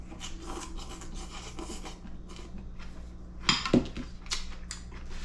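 A knife slicing vegetables by hand on a board for salmon and vegetable pho, repeated soft rasping strokes with a couple of sharper knocks near the end, close and alone.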